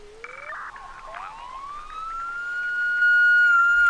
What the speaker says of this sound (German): Boah, diese Sirene